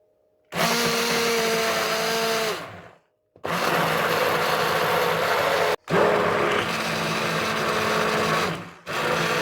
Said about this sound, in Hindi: मैं इसी को एडजस्ट करके हैंड ब्लेंडर के अंदर अभी बीट करना स्टार्ट करूँगी